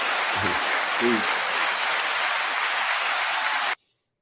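Short burst of audience applause rendered as a steady hiss of clapping, with a brief voice or two near the start, cutting off abruptly before the end.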